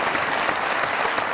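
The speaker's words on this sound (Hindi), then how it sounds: "बहुत ज्यादा तालियां इनके लिए होनी चाहिए" Studio audience applause on a Pakistani comedy talk show, a short, loud, dense burst of clapping throughout.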